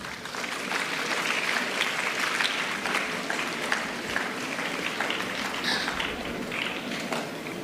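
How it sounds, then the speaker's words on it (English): Audience at a school Founder's Day event applauding steadily for several seconds, dense, even clapping from a crowd heard from within the room. "Round of applause,"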